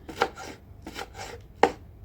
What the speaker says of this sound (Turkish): ince ince doğramaya çalıştık